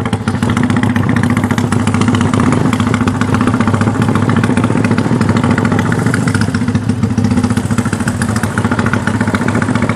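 Yamaha Scorpio bobber motorcycle engine running close by, a loud, steady throbbing drone with rapid rhythmic pulsing and mechanical clatter that holds constant throughout.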